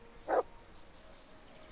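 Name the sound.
dog barking in the video game Kingdom Come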